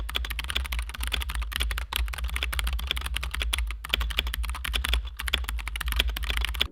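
Fast, steady typing on a SteelSeries gaming keyboard with Gateron optical switches, with dense keystroke clicks and clacks close up, brief pauses between bursts and no talking.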